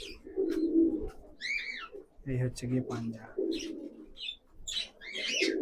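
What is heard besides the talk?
pigeons cooing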